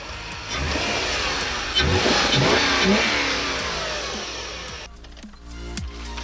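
A Subaru engine with a newly fitted cone air filter catches and runs with a loud, steady roar that surges slightly, then drops away near the end, leaving a few faint clicks.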